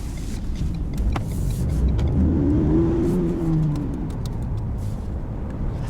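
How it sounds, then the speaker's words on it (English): Car driving over rocks, a low rumbling engine and tyre crunch with a rising and falling note at mid-clip, plus scattered knocks and clicks from the cabin, steady and close with no talk. "Let's go for a drive. Even over these rocks, nice and comfortable."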